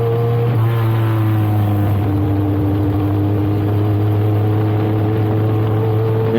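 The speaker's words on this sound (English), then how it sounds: "So here comes Hansie Moore, the Springbok Motor Rewinds, number 44 of Hansie Moore" Hot rod race car running on the oval at Weskus Oval, a steady loud engine drone with strong low harmonics held throughout, no talk over it.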